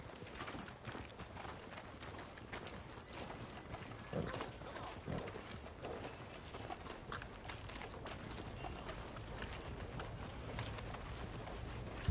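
Steady clip-clop of horse hooves at a walking pace in Red Dead Redemption 2, fairly faint and continuous, with some mechanical rattling mixed in.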